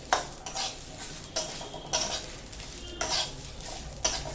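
A spoon scrapes and stirs thick masala being roasted in a pan with bay leaf for a restaurant-style mixed vegetable curry, the scraping coming in steady bursts about every second, close and moderately loud with no talking.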